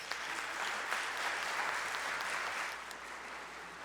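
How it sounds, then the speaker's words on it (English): An audience at a service claps steadily, a dense, even wash of applause from a crowd that holds at a fairly constant level before easing slightly. "Let's give these folks a hand of applause."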